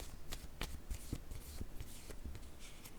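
Tarot cards being shuffled by hand, close and steady, with a rhythm of soft riffling slaps and papery flutters continuing throughout, no voices.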